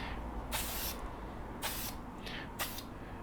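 Three short bursts of Brownells Aluma Hyde II aerosol paint sprayed onto a rifle, each a bright hissing spray of under half a second, spaced about a second apart over a low steady background hum.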